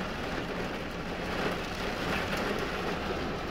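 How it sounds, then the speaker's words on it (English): Heavy rain pours down in Torrevieja as a thunderstorm passes through, making a steady, dense hiss of drops that holds at an even level throughout, with no talking. "I think it's been raining 5 minutes."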